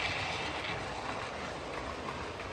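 An OO gauge model train on a layout runs into a tunnel, a faint, steady rumbling hum of wheels on track with no distinct clicks or voices.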